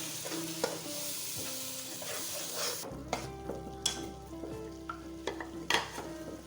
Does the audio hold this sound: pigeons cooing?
no